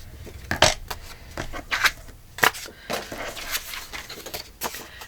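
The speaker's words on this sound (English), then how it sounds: "This is a big scissor job." Big scissors cut through thick card in a series of sharp, crisp snips at irregular intervals, close up, with no voices.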